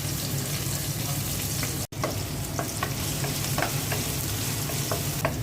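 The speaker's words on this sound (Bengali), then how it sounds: "পাতিলায় তেল দিয়ে দিচ্ছি, পেঁয়াজ কুচি দিয়ে দিচ্ছি।" Chopped onion frying in oil in a cooking pot, a steady moderate sizzle running throughout with scattered faint clicks and pops and one brief dropout partway through; no voices.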